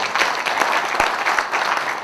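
Brief burst of audience applause at a national labor union general assembly welcoming newly joined union leaders, dense clapping from a seated crowd, steady and fairly loud for the whole stretch.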